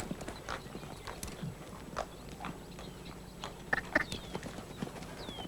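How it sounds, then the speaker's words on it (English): Several old, heavy pasture horses move freely at liberty, their hooves clip-clopping in an uneven, close-by walking rhythm, with scattered snorts and soft shuffling and a faint whinny mixed in. "Especially old fat pasture horses like this"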